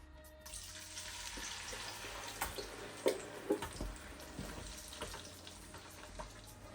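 A blended pepper, onion and garlic mixture for jollof rice hits a hot pan and sizzles quietly and steadily, with a few louder splatters and stirring clatters. No one talks.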